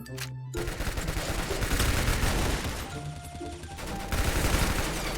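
Rapid automatic gunfire from a Roblox shooter game rattles in dense, continuous bursts that carry on for several seconds after a short pause at the start, loud and close.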